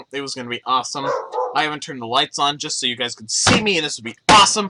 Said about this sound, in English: Sorry for the dog barking again.